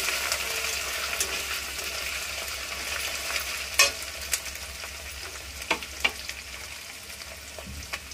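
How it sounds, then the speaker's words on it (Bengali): Chopped onion frying with ginger and garlic paste for Afghani chicken kosha, a steady close sizzle broken by sharp clicks and scrapes of a spatula against the pan. "2 চামচ আদা বাটা, 2 চামচ রসুন বাটা দিয়ে ভালো করে আবার কষিয়ে নেব"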